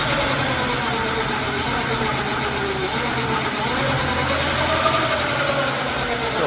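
A 24V 350W electric bike motor held at full throttle, giving a steady, loud, unbroken whine and hum that runs smoothly for several seconds with no talking.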